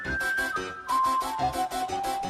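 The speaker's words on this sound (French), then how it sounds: "ça fonctionne aussi les sifflements pour une musique d'Halloween" A thin, sustained whistling melody glides over rhythmic, pulsing spooky Halloween music, with the whistle notes slowly stepping downward.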